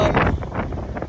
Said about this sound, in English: It is breezy, very windy.